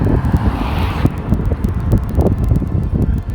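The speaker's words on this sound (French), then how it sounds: "Beaucoup de circulation." Road traffic passes outdoors on a windy day, a continuous loud rumble of cars with gusts of wind buffeting the microphone throughout.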